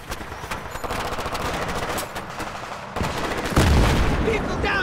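Heavy, sustained gunfire from a Battlefield 3 ambush rattles on continuously, with rapid automatic bursts and a louder boom near the end, layered under battle noise.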